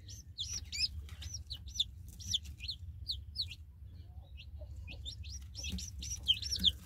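Newly hatched chicks chirp in quick bursts of high, thin peeps, close and fairly faint, with a short pause midway before the cheeping resumes.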